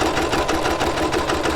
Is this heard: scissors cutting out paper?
no